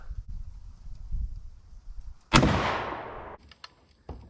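A single close, sharp blast from a Harrington and Richardson single-shot shotgun cracks out and rolls into a decaying echo, with a few faint clicks and handling noises after.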